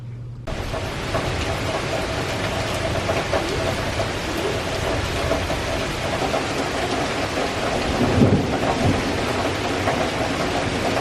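Heavy rain pours steadily during a thunderstorm, with a rumble of thunder swelling around the eighth second; the downpour stays loud and continuous throughout, with no voices.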